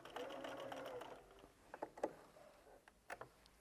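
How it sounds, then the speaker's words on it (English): A sewing machine runs off the end of a quilt binding: a quiet, fast, steady mechanical whir of stitching, then stopping, followed by a few soft clicks and taps. "So I'm going to sew off to the end."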